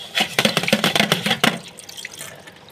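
A single dish being rinsed under a running kitchen tap, with water splashing and clattering against it in quick bursts for a second and a half before the flow fades to a softer trickle.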